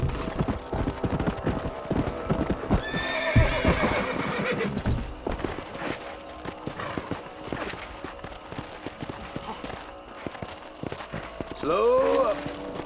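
A horse in the Red Dead Redemption video game neighs loudly with rhythmic hoofbeats of galloping, a second whinny near the end, and someone talks intermittently over it.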